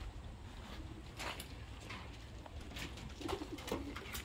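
A pigeon near a house coos faintly outdoors, its soft low calls rising briefly over steady background noise toward the end.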